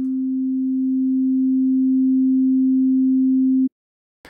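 A steady, pure low-pitched sine tone pushed above 0 decibels in a DAW holds evenly for several seconds without added harmonics, then cuts off abruptly, followed by a brief faint noise.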